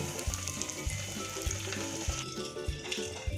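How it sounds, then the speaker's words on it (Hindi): Breadcrumb-coated potato tikki frying in hot oil, a steady close sizzle with soft crackles and faint clinks of utensils, no talking. "ऐसे टिक्की को ये ब्रेड का चूरा लगाएंगे और फिर हम इधर ऑयल में रख देंगे ऐसे।"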